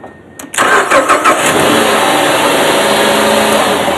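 A car engine cranks briefly and catches at about half a second, then keeps running at a steady, loud idle to the end with no clear stall, during hands-on electrical fault testing with a jumper wire.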